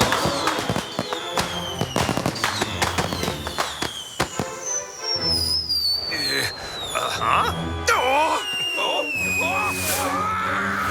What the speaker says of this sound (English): Those are fireworks for a party at the governor's!